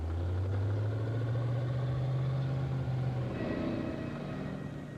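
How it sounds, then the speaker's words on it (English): A Stolly amphibious truck engine runs steadily at a low idle, its deep rumble close and even, then shifting in tone partway through as the revs change slightly. "The engine sounds a treat"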